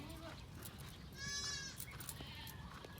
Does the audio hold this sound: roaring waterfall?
no